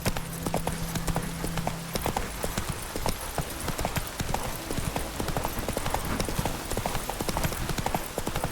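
Horse hooves in a video game clip-clop in a rapid, steady rhythm while riding, loud and continuous throughout, with a faint voice briefly present.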